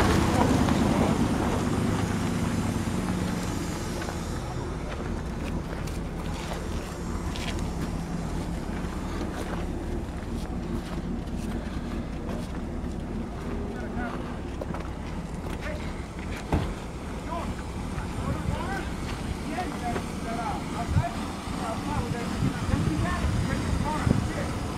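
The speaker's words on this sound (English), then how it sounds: "Motor runs." A 2002 Ford Taurus engine idles steadily up close, a continuous low rumble with broadband wind-like noise and occasional small knocks, no voices.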